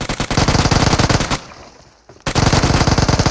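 Sustained automatic AKM fire in a first-person shooter game, loud rapid bursts that stop briefly near the middle and then resume at full intensity.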